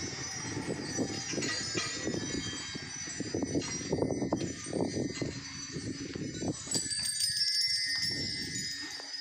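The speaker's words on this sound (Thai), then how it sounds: "มีกระดิ่งห้อยเต็มไปหมดเลย" Many small bells hanging at Wat Hong Thong, a temple set in water in Chachoengsao, Thailand, tinkle together in a steady, faint shimmer over low wind rumble, with no talking.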